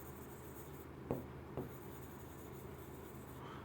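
Chalk or marker writing on a board in a classroom, two short faint scratching strokes over quiet room tone.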